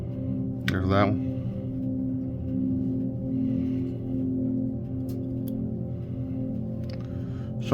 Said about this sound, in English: Sorry for the noise from the dryer.